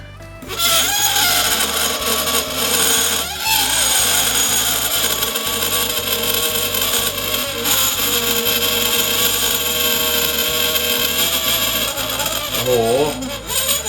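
A blowtorch flame roars loudly and steadily against a metal spoon, with a harsh, hissing tone from start to finish and a brief break near the middle.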